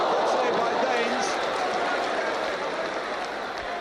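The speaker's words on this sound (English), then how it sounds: "the continuous round of applause clearly there for Trevor Wymark" Football stadium crowd gives a continuous round of applause for a player, a dense, steady roar of clapping filling the ground, with faint commentary blended underneath.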